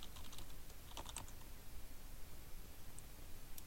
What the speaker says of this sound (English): So go ahead and type that in.